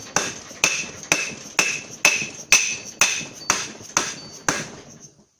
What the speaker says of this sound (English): stand it back up and do some more tapping